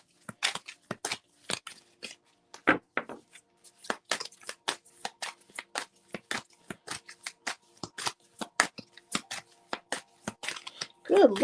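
Tarot cards are shuffled over and over in a steady, crisp riffle of quick papery snaps and slaps, close and fairly quiet, running the whole time in an uneven rhythm.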